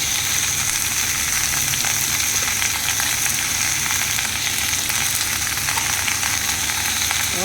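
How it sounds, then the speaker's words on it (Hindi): Mixed vegetables with brinjal frying in oil in a pan in a village kitchen, a dense, even hiss of sizzling oil, loud and close, continuing steadily with no talk. "अब मैं भट्टे को भी डाल देती हूँ।"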